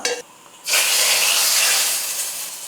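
Hot oil tempered with chili powder and cumin is poured into chana masala, setting off a loud, steady sizzling hiss that starts abruptly and gradually eases.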